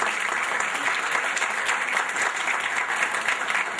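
Steady audience applause at a medical conference session during a plaque presentation, dense and continuous clapping from a crowd throughout, moderately loud with no talk over it.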